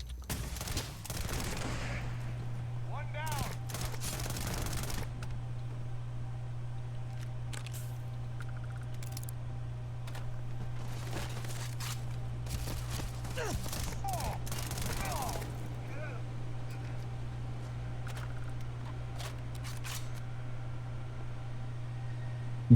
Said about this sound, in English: Dude, this shotgun's nasty.